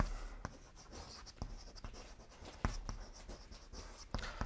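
Pen or chalk scratches and taps across a writing surface in a classroom, with irregular strokes and sharp knocks close by and no voice over them.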